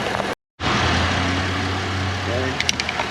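A car engine idles at a repair shop, a low steady rumble that resumes after a brief cut and continues evenly, with a voice speaking briefly over it.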